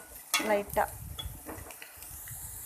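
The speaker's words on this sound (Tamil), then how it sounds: "லைட்டாக வதக்கிக்கணும்" Snake gourd is sautéed in a pan. Two loud scraping, clattering stirs come near the start, then a quieter sizzle follows with occasional soft utensil taps.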